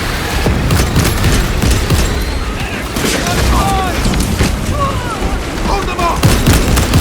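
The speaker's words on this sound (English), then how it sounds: "Grenade out!" Gunfire and grenade blasts in the video game Space Marine 2, a loud, continuous barrage of shots and booming impacts in a chaotic battle, with shouted voices over the combat.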